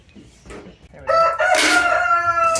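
A rooster crows loudly and close, a drawn-out cock-a-doodle-doo following a few softer clucks and rustles.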